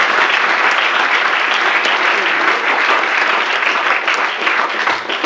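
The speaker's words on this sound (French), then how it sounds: "Vous pouvez les applaudir." Sustained, loud applause from a lecture audience after two talks on Arab intelligence services, dense and steady throughout before thinning slightly at the very end.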